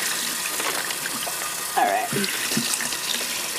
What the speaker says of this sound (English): I need to give the turkey just a little rinse off to get some of the.